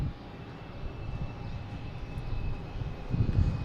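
A JetBlue Airbus A220 arriving from Nashville into Boston Logan makes a faint, low engine hum that slowly builds, swelling into a louder rumble near the end.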